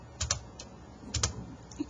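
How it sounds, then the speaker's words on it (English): Soft keystrokes on a computer keyboard come in two short bursts with a pause between them; quiet and close, with no talking. "I'm going to be typing in"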